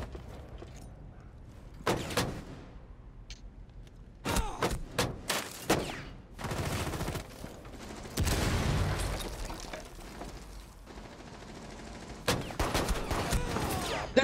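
Bursts of rapid gunfire in Rainbow Six Siege, close and loud, with several sharp volleys and single cracks separated by short pauses, plus thuds and impacts in between.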